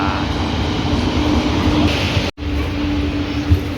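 A train rumbles steadily nearby, a loud continuous roar with a brief cut partway through.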